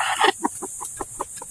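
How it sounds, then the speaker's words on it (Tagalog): A chicken resting in the shade on a farm in the Philippines clucks close by: a burst of noise, then a steady series of short, evenly spaced clucks over a constant insect-like hiss. "So ito po pala mga kaprobinsya yung ating manok."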